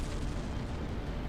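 An explosion in the space combat game Strike Suit Zero: Director's Cut gives a dense, continuous low rumble with crackling bursts. It stays loud and steady throughout, with no voices over it.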